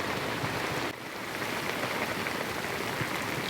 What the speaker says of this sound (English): it rained a lot. It's starting to let up